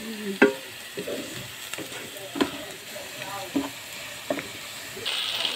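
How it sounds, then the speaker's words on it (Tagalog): Kantak beans and potato are sautéed in a pan with a spatula, giving scattered scraping clinks and soft stirring knocks over a low, steady sizzle. "Ayan po, igisa muna ito beans at saka potato."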